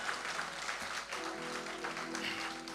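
A church congregation applauding during worship, soft continuous clapping with a sustained tonal hum of music or voices rising underneath in the second half.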